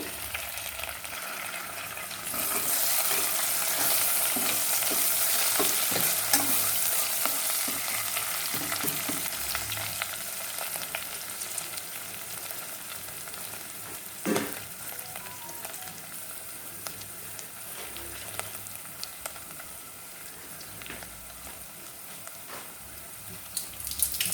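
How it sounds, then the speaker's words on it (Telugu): Mint and coriander leaves fry in a pressure cooker for rice pulao, giving a steady loud sizzle with scattered stirring scrapes and occasional clinks throughout. "అవి వేగుతున్నప్పుడు కొంచెం పుదీనా కొత్తిమీర కూడా వేసుకుందాం"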